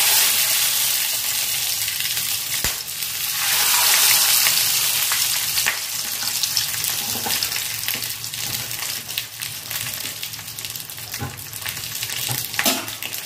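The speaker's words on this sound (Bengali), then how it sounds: "এবার আমি এগুলোকে ফ্রাই প্যানের উপর আস্তে করে দিয়ে দেবো।" Banana flower paturi parcels fry gently in oil in a frying pan over a gas flame, giving a continuous close sizzle that swells, then settles into softer crackling with scattered pops.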